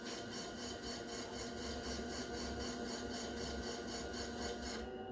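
Topaz gemstone being polished across a lap, a continuous close grinding rasp with a faint regular pulsing from the rotating lap, steady and fairly loud until it eases off at the end, no talk.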